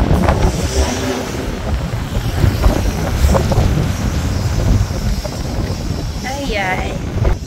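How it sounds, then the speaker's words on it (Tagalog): Strong wind on a hill buffets the microphone in a steady, heavy roar, with a voice speaking briefly near the end. "Lakas ng hangin"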